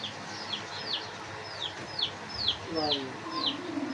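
Bullet breed pigeons in a loft give a run of quick, repeated chirping and cooing calls at a steady rhythm, fairly close, over a soft background murmur.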